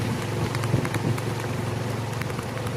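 Rain falls steadily during a storm, a close, even hiss with scattered drops and light tapping and no talk.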